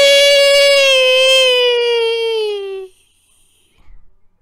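A voice mimics a frog riding a Segway past: one sustained, slightly falling nasal tone that carries for about three seconds and then cuts off, followed by a brief faint rustle.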